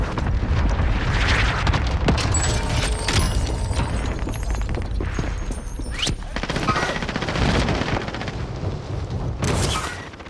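A cluster strike in Call of Duty Warzone unleashes a rapid chain of loud booms and blasts with crackling gunfire, close and overwhelming, with voices shouting amid the barrage.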